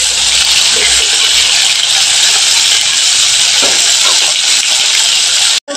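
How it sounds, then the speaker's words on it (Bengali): Sardines sizzle in hot oil in a pan, a steady, loud, bright hiss that runs unbroken throughout and cuts off abruptly at the end. "মাছগুলোকে আমি একটু তেলের মধ্যে ভালো করে দিয়ে দিচ্ছি, যাতে ভালোভাবে ভাজা হয়"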